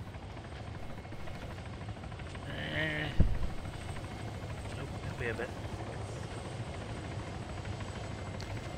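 A helicopter in the video game Arma 3 drones steadily with a rotor thrum as it comes in to land, loud and constant under brief radio-style talk from players.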